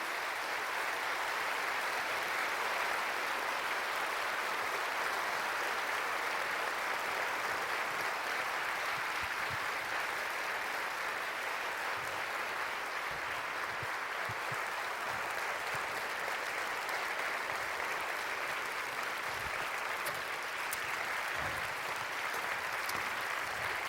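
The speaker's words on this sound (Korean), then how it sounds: "우리 박수로 한번 모셔보도록 하겠습니다." An audience at a church prayer gathering applauds continuously as teachers are welcomed onto the stage, dense sustained clapping from a large crowd lasting throughout without letup.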